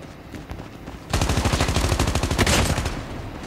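Rapid automatic gunfire rattles out in a sustained burst during Call of Duty Mobile's Attack of the Undead zombie mode. Dense repeated shots sit loud and close over quieter game ambience, with no talk.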